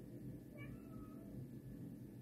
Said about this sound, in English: And now my cat's crying somewhere in the background here